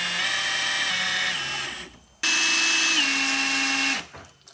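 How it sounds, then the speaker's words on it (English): A power drill drives a fluid pump on a Toyota, whining loudly in two steady bursts. Each burst holds a sustained motor tone that dips slightly in pitch, with a short pause between them and no speech. "you put the drill in there, and the drill will pump the fluid up"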